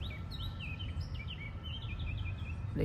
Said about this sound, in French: chœur des oiseaux